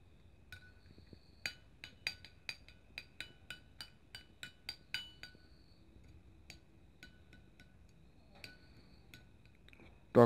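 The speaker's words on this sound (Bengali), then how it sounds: "এরপর এটাকে মিক্স করুন ভালো করে মিশিয়ে নিন" Yogurt, honey and lemon juice mixed in a bowl for a face pack: a regular series of light spoon clinks against the bowl, about a dozen taps, quiet and close, then sparser taps and a brief loud bump at the end.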